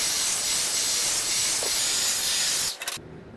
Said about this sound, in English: and you just blow dry it into your hair